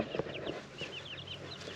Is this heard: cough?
no